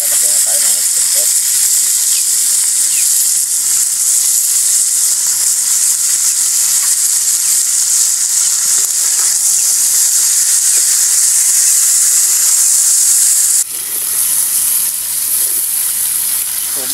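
Spicy pork seasoned with salt, crushed pepper and oyster sauce sizzles loudly and steadily in a hot pan, a continuous bright frying hiss with faint stirring, briefly dipping near the end.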